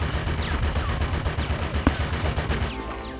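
Enemy gunfire in Conker's Bad Fur Day, a rapid rattle of shots with one sharper crack, loud and close, amid game sounds.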